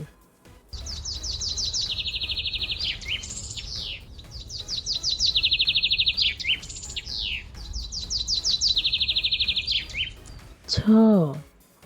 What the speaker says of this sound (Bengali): চতে চড়ই চড়ুই পাখি দেখতে খুব সুন্দর